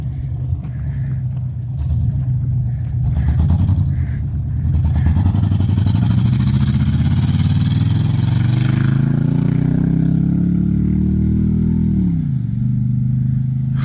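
An LS-swapped OBS truck revs hard on its first street drive, a loud, sustained engine roar climbing steadily in pitch for several seconds before dropping back abruptly near the end, with no talking.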